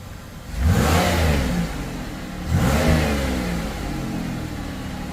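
A 2001 Chevrolet Impala with the 3800 V6, smoking after sitting idle a long time, revs up twice from idle, each throttle blip rising and falling in pitch before settling back to a steady idle close by.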